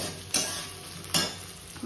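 Potato pieces frying lightly in a pan, a soft continuous sizzle punctuated by two distinct scraping stirs about a second apart, with a faint steady high whine in the background.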